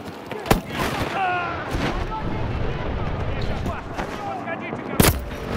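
Gunfire from Battlefield 2042 on the Valparaiso map in hardcore mode: two sharp, loud shots stand out near the start and end over a continuous rumble of battle, with players talking throughout.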